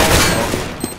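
Gunfire in the shooter game CS:GO during a competitive 2v2 match, a loud dense burst of shots at the start fading into a couple of fainter single cracks.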